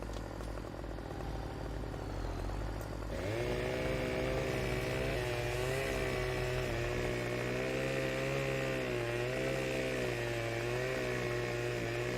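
A chainsaw in Farming Simulator 17 idles, then revs up into a loud sustained whine as it bites into a tree, holding a steady buzzing drone that shifts slightly in pitch.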